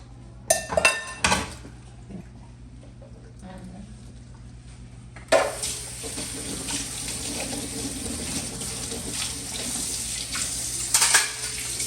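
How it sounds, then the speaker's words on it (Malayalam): Water runs steadily from a tap while dishes clink and clatter, with a few louder knocks of pots near the start. "പാത്രങ്ങളെല്ലാം ഉണ്ടായിട്ടുണ്ടായിന് അപ്പോൾ അതെല്ലാം ഒന്ന് കഴുകി വെക്കലാന്ന്"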